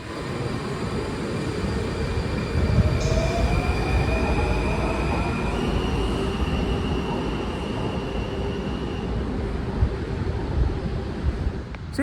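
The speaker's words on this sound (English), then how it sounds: "it looks like they were just taking the train out of service" A Washington Metro Silver Line train rolls along the rails with a loud, steady rumble, overlaid by long, high metallic squeals from the wheels that shift in pitch, continuous and close, with no talking.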